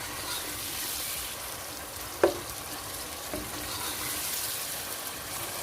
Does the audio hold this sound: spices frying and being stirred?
yes